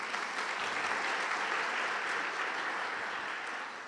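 Audience applause at a spoken talk: a dense, continuous wash of clapping hands, loud and steady, with no voices, easing off slightly in the final moments.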